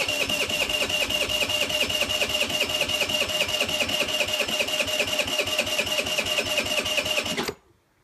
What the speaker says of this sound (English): Press the brake and then press start. Bit of a pump.